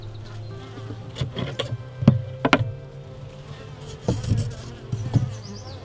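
Honey bees buzz around a hive, a close, continuous hum with drifting pitch, broken by several sharp knocks and taps from handling the hive frames.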